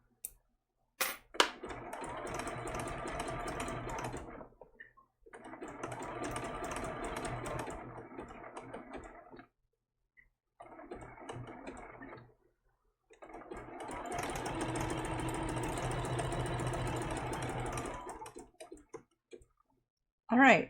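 A sewing machine stitches a baby turtle appliqué in four steady bursts of rapid mechanical whirring, each a few seconds long and separated by short pauses, close and fairly loud with no talk over it.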